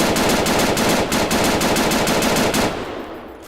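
Rapid automatic fire from a compact AUG sniper rifle variant with a regular barrel in Arma 3, a loud, dense burst of evenly spaced shots lasting under three seconds before cutting off into a fading tail.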